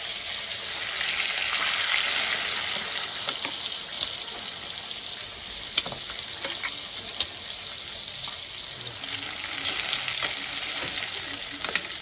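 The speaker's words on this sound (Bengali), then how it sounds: "বাকি মাছগুলো এবার আমি লাল করে ভেজে দেবো" Rohu fish pieces frying in hot oil for a curry give a steady, close, bright sizzle, with scattered sharp crackles and pops throughout and no voices.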